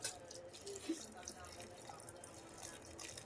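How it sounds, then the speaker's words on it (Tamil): Water pours into a glass in a home kitchen during juice preparation, a soft continuous trickle with faint drips, fairly close and low in level, with no talking. "இங்கே பாருங்க உங்களுக்கு தான் ஒரு கிளாஸ் தண்ணி ஊற்றிக்கலாம்"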